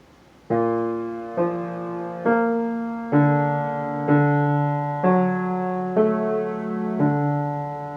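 A piano sounds a measure of a piece, about eight evenly spaced sustained tones struck one after another, clear and alone with no talking.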